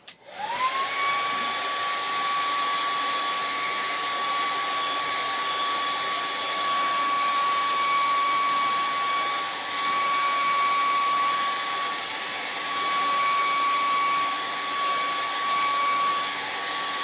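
A hair dryer runs continuously over chalk paste on a craft stencil, a steady close whirring blow with a constant high whine, alone without any talk.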